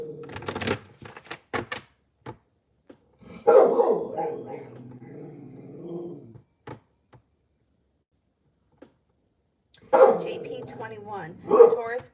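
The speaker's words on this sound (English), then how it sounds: "What is he barking at?" A dog barks in short, sharp bursts at a moderate distance, separated by long quiet gaps, while a person talks at times in between.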